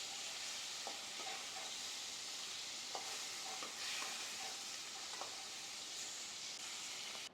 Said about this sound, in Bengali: উল্টে পাল্টে চিংড়ি মাছগুলোকে ভেজে